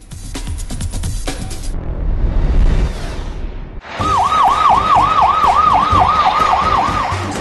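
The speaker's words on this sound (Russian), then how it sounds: "В течение часа они ездили по городу с включенными проблесковыми сигналами и сиренами" Emergency vehicle sirens sound during a joint road patrol by traffic police and fire department crews driving through a city, a loud wailing siren cycling steadily over heavy traffic noise after a noisy pass.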